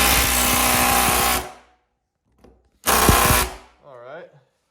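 A Makita power tool removes door hinges during a walk-in cooler build, running in two loud bursts of buzzing, with silence between and a brief voice afterward.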